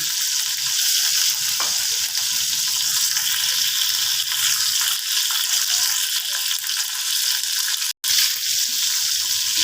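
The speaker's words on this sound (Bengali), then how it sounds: "প্রথমে কড়াতে তেল দিয়ে দিয়েছি, করলাগুলো আমি ভেজে নিচ্ছি।" Bitter gourd fries in hot oil in a wok with a loud, continuous sizzle that holds steady throughout, broken only by a brief dropout near the end.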